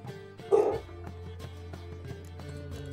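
A pet dog in the room gives a single short bark over faint background game sound, followed by quieter yips.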